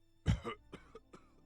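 A voice imitates a roleplaying character's sickly, hacking cough: one heavy, rough cough followed by a few shorter, weaker hacks, close and fairly quiet.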